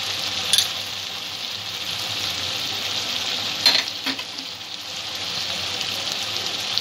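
Spices with turmeric frying over a low gas flame for Bengali-style chicken ghugni: a steady, close sizzle with a few brief stirring scrapes against the pan, no talking.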